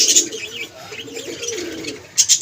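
American Flagger fancy pigeons in a loft give soft, low cooing calls with a few brief chirps, close by and with no talk.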